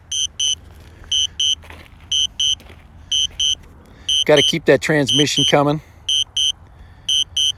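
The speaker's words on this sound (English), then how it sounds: "that really annoying beep" Repeated high-pitched electronic warning beeps from a DJI Spark drone controller, coming in regular pairs of short tones, pausing while someone talks over them, then resuming steadily.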